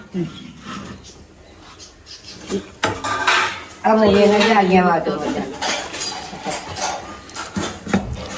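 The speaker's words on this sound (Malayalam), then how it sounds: "അങ്ങനെ നമ്മൾ ഇത് ഇളക്കല് തുടങ്ങാണ്." Food stirred in a large heavy pot on a brick-built stove, with metal ladle scrapes and clanks against the pot amid loud background chatter and voices nearby.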